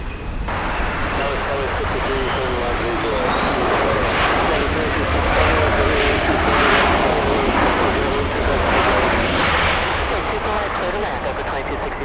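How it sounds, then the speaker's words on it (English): A Polish Boeing 787 airliner taxis at LAX airport, its jet engines giving a steady, loud roar with a rising whine, under continuous talk. "looks like the Polish 787 is on the move"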